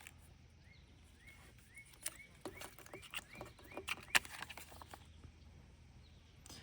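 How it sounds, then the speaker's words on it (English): Scattered small bird chirps and short calls sound from a distance outdoors, faint and intermittent against a quiet background. "The birds are chirping."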